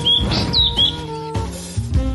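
A bird lets out a loud, close series of sharp, rising and falling squeals and chirps in quick succession, with no talking over it.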